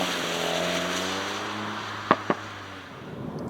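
A 2021 VW Golf GTI Clubsport 300 hp cruises on a motorway, its steady engine drone and road roar constant from inside the cabin, with two brief sharp clicks near the end.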